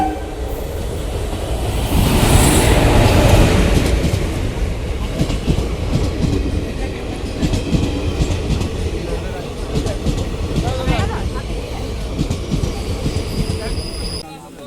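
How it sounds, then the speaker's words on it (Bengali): A train rumbles into a station in Bardhaman, West Bengal, close by, with loud clattering wheels, a brief screech and a faint horn, and people murmur in the background. "এতক্ষণে ট্রেন এলো"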